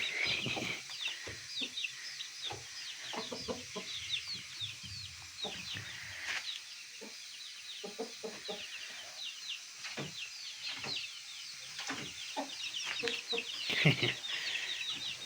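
Chickens cluck steadily through the evening, a dense run of short close clucks and chirps from a flock with young chicks, continuous over low background noise.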